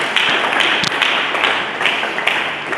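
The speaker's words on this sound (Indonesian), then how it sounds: "Berikan tepuk tangan bagi Yesus." A church congregation claps together during a sermon, dense sustained applause with scattered sharper individual claps, fairly close and uninterrupted by speech.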